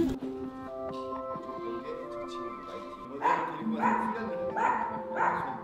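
Several rescued dogs bark in short repeated bursts at an animal rescue group's cafe, close and fairly loud, with a whimpering tone beneath and faint talk early on.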